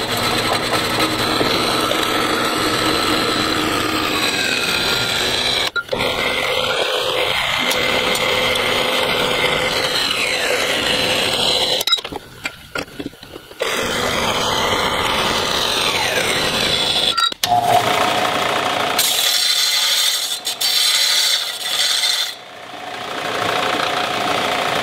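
A saw cutting 2.5 inch straight steel pipe in half for a custom Nissan Juke intercooler, a loud continuous grinding roar lasting most of the clip with brief drops and a change in tone near the end.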